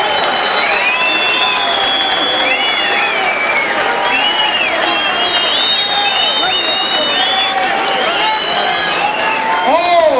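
A boxing crowd cheers after the Julio Flores vs Jake Rodriguez fight: a loud, sustained roar with applause and shrill whistles rising and falling throughout, and a voice briefly audible within the noise.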